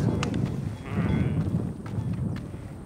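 Sheep bleating from a flock kept outdoors on a winter mountain pasture in a remote area, several overlapping calls close by over steady wind and outdoor noise, with no talk.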